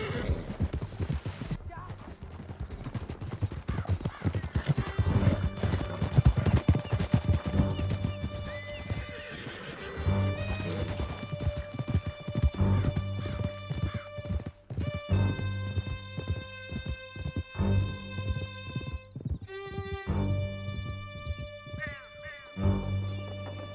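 Horses gallop with rapid hoof clip-clops and whinnies during a canyon escape in Red Dead Redemption 2, with game music, voices and shouting over the hooves.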